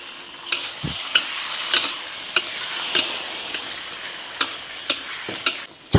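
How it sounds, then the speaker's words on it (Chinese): Scallion, ginger, star anise and soybean paste stir-fry in hot oil under a steady sizzle, punctuated by a regular series of sharp spatula scrapes and taps against the wok, close and alone without talk. "锅热加油。 葱姜、大料，"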